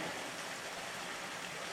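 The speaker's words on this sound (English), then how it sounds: "There's a little creek" Small creek flowing through a redwood forest, a soft continuous broadband rush of water, faint and steady with no voices.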